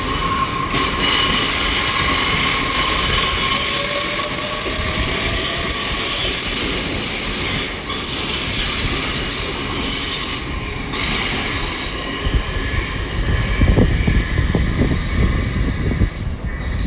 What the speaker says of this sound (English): The IET going out as well.